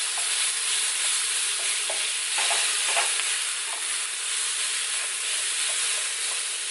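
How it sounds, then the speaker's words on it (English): Tofu fries in a pan with a steady, close sizzle and hiss, broken by occasional faint scraping stirs and no voices. "I like for my tofu to cook, so cook for a little while and get maybe like a little bit of browning on it"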